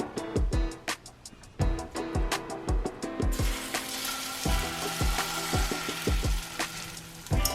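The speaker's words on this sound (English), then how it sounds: "when I fry my potato pancakes, I don't want them to be soaked in so much oil. I want them to fry." Polish potato pancakes fry in sunflower oil, a steady crackling sizzle broken by repeated sharp, low knocks and taps as the pan is worked. The sizzle swells brighter partway through, and nobody speaks.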